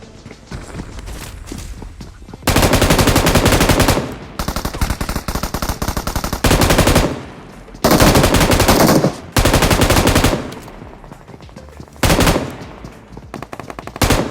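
An M249 light machine gun fires in the BGMI mobile shooter, loud sustained bursts of rapid automatic gunfire lasting a second or two each, repeated several times with brief gaps between.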